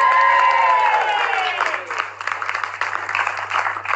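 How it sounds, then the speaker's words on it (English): A studio audience at a television entertainment show bursting into clapping and cheering, loud and continuous, with whoops at the start and steady applause after. "you should start cheering right now"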